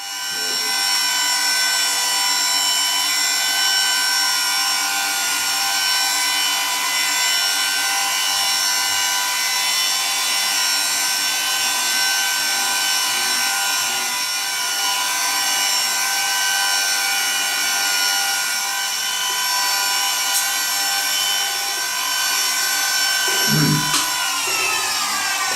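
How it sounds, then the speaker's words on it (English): A small drill bores holes in tiny metal hammer struts for a miniature M1911 pistol, a continuous bright whirring grind running for several holes in a row, steady and close, with a brief clunk near the end. "I drilled out 4 of the holes"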